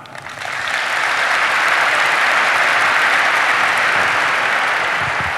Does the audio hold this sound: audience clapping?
yes